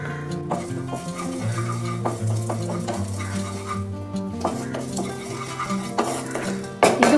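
Spices, fenugreek seeds and asafoetida are dry roasted in a pan for a curry powder, with close scraping and stirring against the metal and light clinks, over a humming background.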